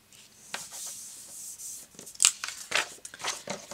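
Scissors snip and rustle through journaling paper up close, a series of short, irregular crisp cuts and paper scrapes, fairly quiet with no voices.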